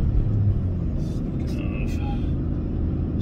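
Toyota GR Corolla engine pulling in second gear in sport mode on a country road, a steady loud low rumble from inside the cabin.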